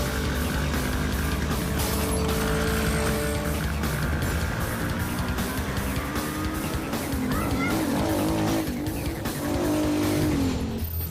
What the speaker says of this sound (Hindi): अरे मेरी गाड़ी लेकर भाग रही है।